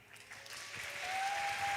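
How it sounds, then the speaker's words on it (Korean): A church congregation applauds in a main sanctuary during a Sunday youth worship service, cheering a wedding announcement. The steady clapping swells gradually and grows louder toward the end, with no voices over it. "오늘 박수가 많네요"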